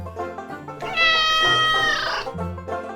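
A domestic cat gives two or three clear, close meows: a short call, then a longer rising and falling one, with no voices around it.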